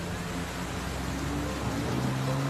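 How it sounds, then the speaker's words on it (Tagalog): Heavy rain pours down as a steady, dense hiss of drops with no pauses, held at a moderate level with no talking. "Malakas ang ulan."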